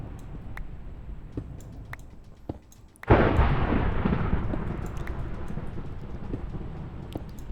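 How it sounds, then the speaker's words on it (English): Thunder in the Minecraft video game: a sudden loud crack that rolls into a long, broad rumble, fading slowly over faint steady background ambience. "Jeez, that thunder is crazy."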